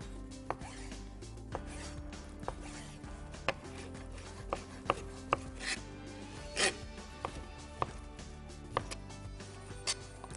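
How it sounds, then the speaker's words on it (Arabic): Chicken breasts are cut up with a knife on a board in a home kitchen, giving a steady series of soft taps and a few sharper knocks. "تقطيع صدور الدجاج بهالطريقه"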